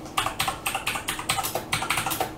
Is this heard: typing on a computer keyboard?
yes